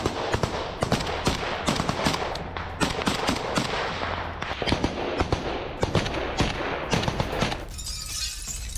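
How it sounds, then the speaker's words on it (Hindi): Rapid bursts of automatic gunfire crackle in dense, sharp volleys for most of the stretch, loud and close, then give way to a hissing rumble at the end. "ताबड़तोड़ गोलियां चलाई गई हैं"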